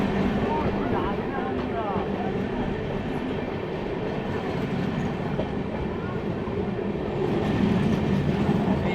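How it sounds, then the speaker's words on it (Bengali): A train pulls away on railway tracks at a station, giving a steady, loud rumble with faint rhythmic wheel clatter that swells slightly near the end. "একই টাইমে কিন্তু দুটো ট্রেন কিন্তু ছেড়ে দিল"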